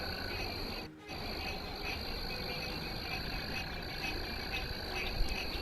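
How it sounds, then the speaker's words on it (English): Frogs croaking in a backyard pond tank, a dense steady chorus of calls with insect-like trilling, loud and continuous throughout with a brief dip near the start and no talking. "So the frogs you hear are the frogs in my tank."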